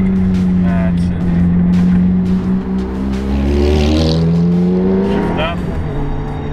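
A Ferrari sports car drives laps at an exotic car experience track, its engine droning loud and close as it accelerates, revs rise and fall through gear shifts, while people talk over the engine noise.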